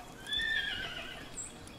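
Jolt Horse creature in Palworld neighing, a short bright whinny that rises and wavers for about a second, followed by a fainter high squeal, moderately loud and alone with no speech.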